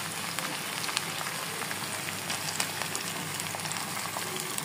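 Food frying in a pan before ginger-garlic paste goes in: a dense, steady sizzle like light rain, with faint scattered crackles and no voices.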